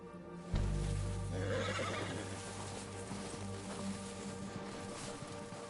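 A horse in a PS4 video game gives a loud, close neigh and whinny, followed by clip-clopping hooves and rustling as it moves, with no talk over it.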